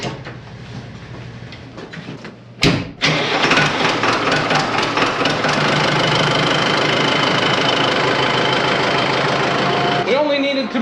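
A side-by-side utility vehicle engine idles steadily at mid pitch after a brief clunk near the start, loud and close, with a faint voice at the end.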